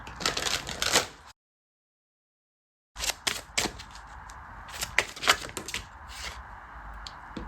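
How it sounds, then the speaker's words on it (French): Tarot cards are shuffled by hand in quick crackling bursts of riffling and slapping, broken by a brief silent pause before the close, dry shuffling resumes. "je vais mélanger où je peux"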